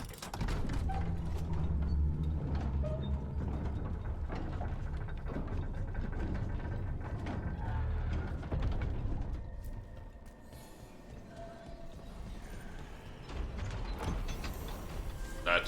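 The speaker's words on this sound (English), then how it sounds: "I'm gonna ride the elevator." An elevator mechanism in the video game Dragon Age: The Veilguard, grinding and clanking steadily with creaks and gear rattles, then quieter after about ten seconds as the ride settles.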